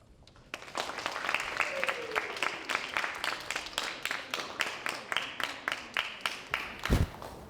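Rhythmic applause from a school audience at a middle school assembly, a steady run of fairly close, evenly spaced claps that grow more distinct toward the end, with no talk over it.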